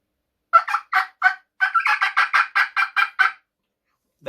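A turkey hen cut imitated by a human voice on a mouth call, a string of about a dozen sharp, loud, clucking notes in quick uneven rhythm, with a pause near the start, heard alone.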